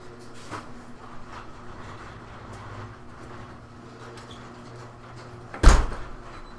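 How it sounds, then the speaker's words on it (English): A single sharp thud of a door shutting near the end, loud and close, after several seconds of quiet low rumbling. "Let's close the door here."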